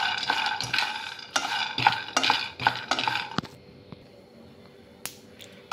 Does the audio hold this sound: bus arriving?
no